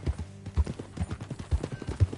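Horse hooves clip-clop in a steady four-beat rhythm on a PS4 video game ride, close and distinct, with no talk over them.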